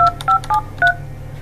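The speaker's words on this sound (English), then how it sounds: "Dial the number that you want to dial." Keypad dialing tones from an Avaya J139 IP phone: four short, evenly spaced DTMF beeps, each a clean dual tone, heard close and alone over a faint low hum.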